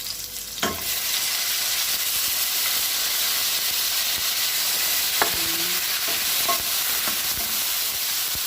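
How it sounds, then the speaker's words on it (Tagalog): Tomatoes go into a pan of sizzling meat for machbous laham, giving a loud, continuous hiss and frying sizzle with a few sharp clinks of a utensil against the pan. "isusunod na natin yung kamatis"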